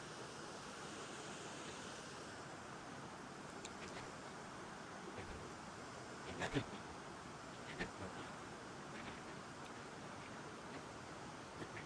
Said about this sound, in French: Une belle petite cascade.